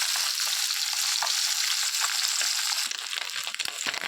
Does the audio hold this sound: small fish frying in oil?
yes